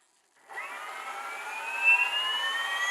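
The electric motor of a Goblin 570 RC helicopter starts after a brief silence and spins up into a rising, whining tone that climbs steadily and stays fairly loud to the end.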